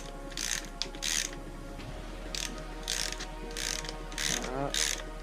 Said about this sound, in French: Donc là vous enlevez l'écrou qui tient l'amortisseur